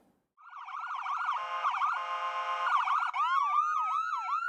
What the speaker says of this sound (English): resounding our siren as we continue along to the emergency